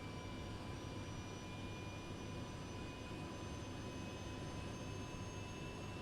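Turbine engine of a DHC-3 aircraft starting up in a flight simulator game, a steady faint hum and whine with no voices over it.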